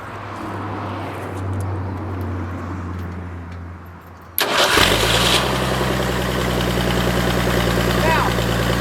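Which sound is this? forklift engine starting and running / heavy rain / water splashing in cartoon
forklift engine starting and running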